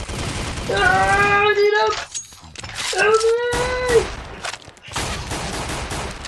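Gunfire from a Minecraft gun mod crackles in quick bursts while voices shout and wail over it, loud and close throughout.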